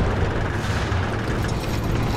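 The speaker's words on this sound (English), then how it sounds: "I hope those are our guns." Battlefield Bad Company gunfire and explosions rumble as a dense, loud, continuous barrage of booms with no break.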